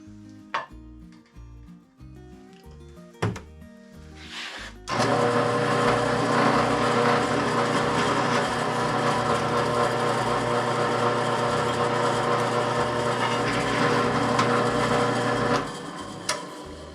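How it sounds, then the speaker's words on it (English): After some clattering handling sounds, a drill whines steadily for about ten seconds as the bit cuts a hole in a snow pusher, then winds down. "That drill bit's cutting pretty good, eh?"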